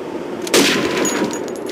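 A single gunshot fired at teddy bear targets on a training range in Call of Duty 2, a sharp crack followed by a short fading ring and ambient noise.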